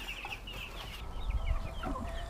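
Several hens cluck and murmur nearby in scattered, uneven bursts, with low rustling in the background and no talking.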